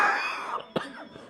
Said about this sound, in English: where'd that cough come from?